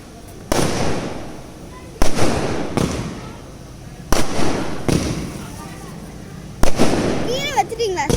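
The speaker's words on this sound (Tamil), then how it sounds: "இதுவும் லைட்டு வெடி பார்த்தீங்களா?" Firecrackers burst at a church festival for St. Anthony in Nagapattinam, with loud sharp bangs at irregular intervals, each followed by crackling, over crowd noise and nearby talk.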